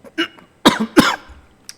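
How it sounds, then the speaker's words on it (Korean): Several sharp, close coughs in quick succession from a man during a coding lesson, loud and abrupt with short gaps and a brief throat noise at the end. "기침이 나와가지고 죄송합니다."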